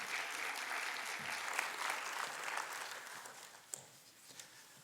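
An audience at a 2023 Cambridge Partners client briefing applauds steadily as Scott Rainey is welcomed. The clapping is dense and sustained, then thins out and fades near the end, leaving a few scattered claps.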